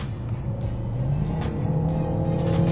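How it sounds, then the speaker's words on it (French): Car engine in sport mode with an EAT8 automatic gearbox, revving steadily higher with a rising drone and a tonal whine, heard from inside the cabin and continuous for the whole stretch. "La voiture devient plus sonore. Enfin, le moteur devient plus sonore."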